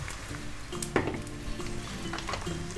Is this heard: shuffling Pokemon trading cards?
no